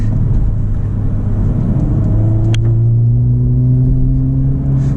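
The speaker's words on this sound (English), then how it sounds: "the car accelerates so much faster in R mode than it does in comfort or sport" A 2024 Honda Civic Type R accelerates hard in R mode, its engine drone rising steadily in pitch as it pulls. The sound is loud, continuous and close, with road rumble underneath and no talking.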